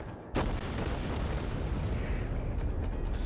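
A battleship's big guns fire in World of Warships, with one sharp heavy blast followed by a dense, roaring rumble that carries on loud and steady until the end.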